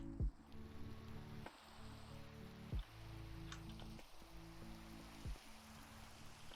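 Steady rain falling inside a Minecraft-style game world, a soft continuous hiss with occasional thumps and low tones from gameplay over it, no one talking.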